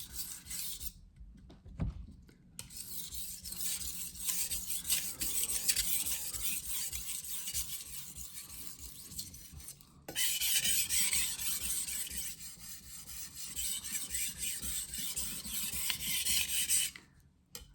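Kitchen knife sharpened on a whetstone, with steady close gritty rasping strokes in two long sustained stretches separated by a brief pause.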